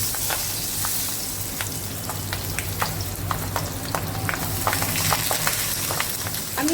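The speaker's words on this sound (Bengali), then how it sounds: "যেহেতু তেলটা প্রচণ্ড পরিমাণে ফুটছে, তো আমি এর মধ্যে দিয়ে দিলাম একটু হলুদ," Mustard oil boils hard in a pan with fish as turmeric goes in. A loud, dense crackling sizzle with sharp popping spits runs unbroken and close for the whole stretch, with no talking.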